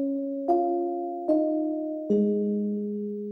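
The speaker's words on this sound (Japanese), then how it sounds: "あ、もうチャイム。" School chime in the PS2 game Amagami: three clear bell tones strike one after another about a second apart, each ringing out and slowly fading, with no voices.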